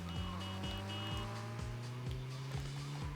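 A car engine runs steadily in GTA Liberty City Stories, a sustained low hum with a rhythmic repeating thump, heard on its own at a quiet level.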